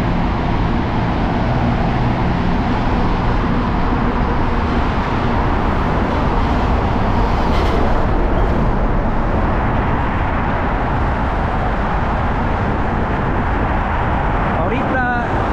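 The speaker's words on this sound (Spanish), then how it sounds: "Muchos carros, no sé si me van a escuchar." Steady, loud roar of heavy traffic with many cars passing at the entrance of a tunnel in a city centre, a continuous wash of road noise with wind buffeting through it and a voice faintly under it.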